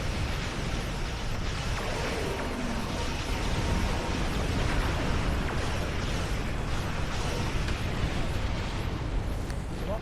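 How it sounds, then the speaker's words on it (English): Continuous dense rumble of explosions from space combat in Star Trek Online, loud and sustained throughout with layered booms and crackling bursts blending into a steady roar. "Lots of explosions."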